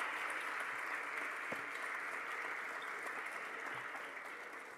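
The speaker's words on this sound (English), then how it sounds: "Big applause for all workers from MIDAP." Applause for research institute staff at a launch ceremony: a steady wash of clapping from an audience that holds for several seconds, then slowly fades, no talking.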